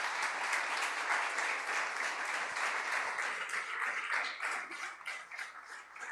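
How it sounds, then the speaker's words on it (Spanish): A church congregation applauding during a Spanish-language service, a dense, steady roar of many hands clapping at once for several seconds, fading slightly toward the end, with no voices over it. "Dale un aplauso al Señor."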